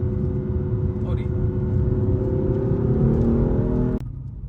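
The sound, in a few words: BMW M4 F82 with S55 engine accelerating in sport mode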